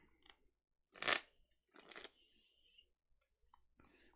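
A deck of Pokémon trading cards is shuffled by hand in a few short, crisp riffling bursts, close and fairly quiet, separated by brief silences.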